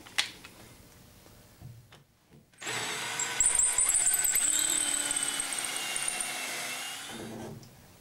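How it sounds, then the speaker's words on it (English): A power drill bores through a one-inch wooden jig and on into the leg of an Arts and Crafts panel bed, whining steadily and loudly for about five seconds after a quieter, stop-start opening. "So we're drilling through 1 inch of the jig and then 1 5/8 inch into the leg"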